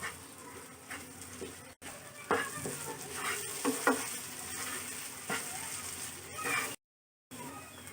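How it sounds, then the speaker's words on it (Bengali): Beef brain frying over medium heat in a pan, with steady sizzling and repeated stirring scrapes close by, and a faint voice in the background. "মিডিয়াম আঁচে আমি এভাবে নেড়ে নেড়ে এগুলোকে ভেজে নিচ্ছি।"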